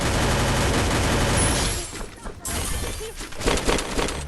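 Dense bursts of gunfire and shattering impacts from a Free Fire match, loud and continuous at first, then thinning into scattered sharp shots, with talk over the action.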